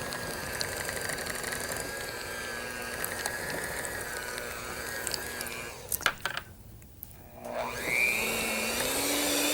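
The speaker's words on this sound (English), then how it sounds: "This is a computer programmed beater, and it sure makes it easy" Computer-programmed electric beater whipping three packages of cream cheese with butter, a steady buzzing motor whine that dips and pauses briefly near the end before revving back up, no talking.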